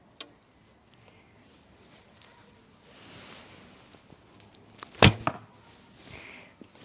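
A Turkish Monolith bow, 35 lb draw at 28 inches, looses an arrow: a sharp snap of the string with a quick thud of impact just after. Both come out loud and close against quiet outdoor rustling.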